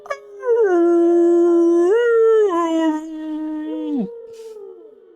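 A person's voice imitates a dog or whale howl, a loud, close, sustained tonal wail that holds steady, swoops upward, then drops sharply near the end before trailing off.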